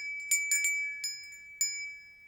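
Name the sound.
reindeer bell ringing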